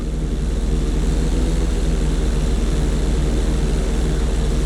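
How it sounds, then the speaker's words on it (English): An airplane's propeller engine in Grand Theft Auto 5 drones loud and steady with a dense, buzzing hum during an inside loop. "Always make sure your plane is straightened out before you attempt an inside loop"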